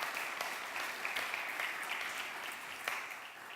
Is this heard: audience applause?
yes